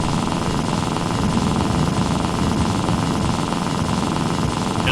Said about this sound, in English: This has got to be the worst motorcycle sound I've ever heard